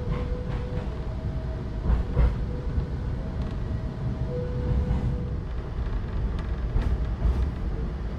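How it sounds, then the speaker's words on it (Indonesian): KA Jayakarta Premium passenger train pulling into Surabaya Gubeng station: a loud, steady rolling rumble with brief squealing tones from the wheels and a few sharper clunks, no voices. "Kereta api Jayakarta yang saya naiki sudah tiba di stasiun Surabaya Gubeng."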